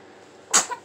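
A baby lets out a single short, sharp sneeze close to the microphone, a quick burst after quiet background hiss.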